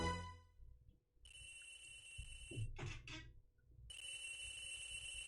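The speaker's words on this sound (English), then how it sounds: "The phone ringing" A phone in the Apollo Justice courtroom game rings in repeated electronic trills, loud and clear, with a short pause and some thuds between bursts.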